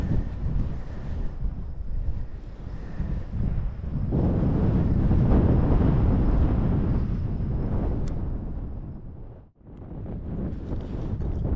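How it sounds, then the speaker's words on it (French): Strong wind gusting across the microphone on an electric-assisted mountain bike ride in the mountains near Uztarroze, a steady roaring buffet that swells louder midway, briefly cuts out, then resumes. "il y a du vent"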